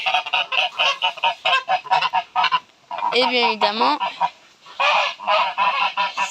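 Several geese honk loudly and repeatedly nearby in a busy, overlapping chorus, with a brief spoken phrase mixed in.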